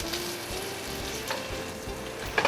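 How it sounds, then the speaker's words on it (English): Pesto-crusted ahi tuna searing in a hot pan, an even close sizzle with faint crackles and a couple of louder pops at the end, with no voices. "We're gonna just let it sear like this, and we're gonna flip it over"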